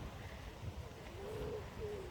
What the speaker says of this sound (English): to listen to the bird song in the background